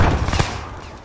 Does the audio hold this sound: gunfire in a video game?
yes